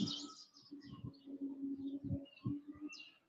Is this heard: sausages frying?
no